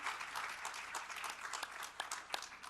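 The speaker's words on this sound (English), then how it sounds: "You can clap for that." A conference audience at a poverty-alleviation session claps, a soft, somewhat distant patter of many hands with a few sharper individual claps standing out.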